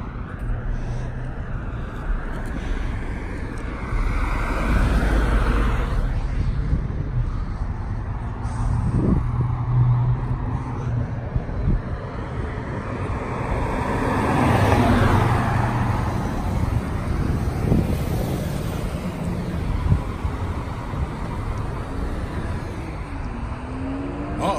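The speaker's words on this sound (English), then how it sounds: "Sounds like somebody's over-revving a BMW." An old BMW car engine over-revved outdoors near a barbecue gathering, a loud rising and falling roar swelling around the middle before easing, mixed with general traffic noise and occasional voices.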